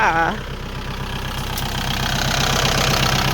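A four-cylinder Kubota tractor engine idles with a steady, rhythmic chug throughout at an even pace, loud and close.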